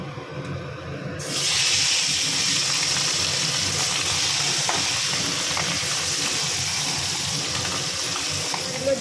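Tangra fish drop into hot mustard oil, setting off a sudden loud, bubbling sizzle that jumps up after a quiet moment and then holds steady and close to the end.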